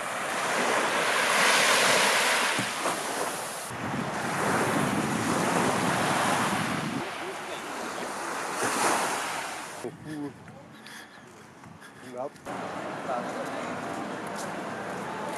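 Sea waves wash onto a beach in Busan, South Korea, a broad steady surf roar mixed with gusting wind buffeting the microphone, easing in the last few seconds as voices talk faintly.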